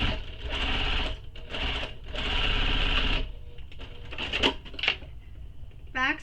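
A sewing machine stitches a Pawling handbag in several short, loud runs, then gives a few scattered clicks and taps from handling, ending with a brief rising whir.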